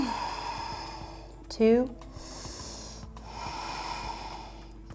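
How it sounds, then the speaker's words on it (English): During a yoga pose, a person breathes slowly, audible in long soft exhales, and a short loud voiced breath or sigh stands out midway. A voice counts briefly. "Exhale back and breathe. Take 5 delicious breaths."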